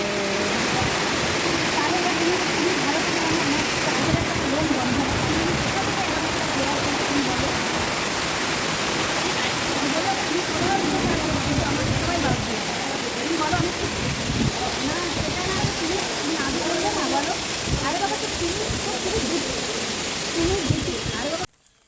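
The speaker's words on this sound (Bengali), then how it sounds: "কত বৃষ্টি" Heavy rain pours down steadily in a dense, unbroken hiss of drops and splashing on surfaces, close and loud throughout, with voices faintly present beneath it.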